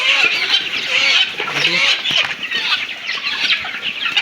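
A flock of Fayoumi chickens on a poultry farm clucks and squawks in a steady, overlapping chatter, close by and fairly loud, with no one talking.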